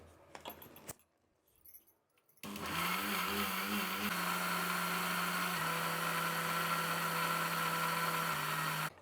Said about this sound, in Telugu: ఇప్పుడు మూత పెట్టేసి మిక్సీ పెట్టేద్దాం.